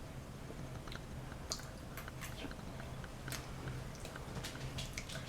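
Crunchy fried gnocchi being chewed up close, with a steady series of soft crisp bites and mouth clicks over a quiet background, no talking, served with pea puree and prosciutto.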